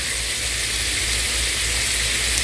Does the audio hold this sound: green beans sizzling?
yes